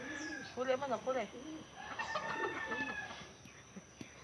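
Chickens cluck and call close by in a busy backyard, with a rooster-like crow partway through and people talking in the background.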